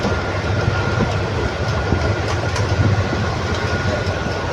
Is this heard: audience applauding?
no